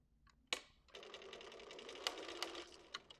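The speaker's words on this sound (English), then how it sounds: "I can go ahead and stitch this and join it all together, matching the notches" Domestic sewing machine stitching blouse pieces together at the notches, a steady whirring run of about two seconds after a sharp click, with a few small knocks near the end, close and moderately loud, no talk.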